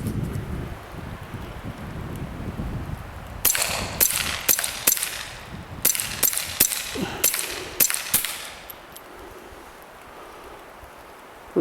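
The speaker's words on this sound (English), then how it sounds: "I really like the quiet noise of the suppressor." Suppressed shots from a threaded Smith & Wesson Victory .22 LR pistol, roughly nine sharp, muffled reports in two quick strings with short pauses, fairly close over a faint outdoor background.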